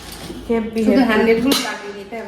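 A cooking pot lid is handled in a home kitchen, giving a brief metallic clink partway through while a person talks close by.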